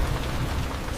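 Rain falls outside a tree house at night, a steady, close, broadband patter with a low rumbling undertone, continuous and uninterrupted by voices.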